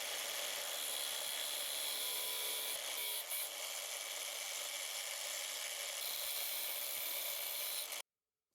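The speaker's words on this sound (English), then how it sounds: "I'll use an angle grinder." An angle grinder cuts steel rivets left proud on a Victorinox Swiss Army knife being modified, giving a loud, steady, continuous hiss of abrasive cutting that runs for about eight seconds and then stops abruptly.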